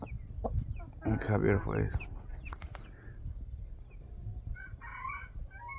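A rooster crows and clucks up close, with a bright crow around the first seconds and scattered clucks over farmyard background noise; someone speaks over it.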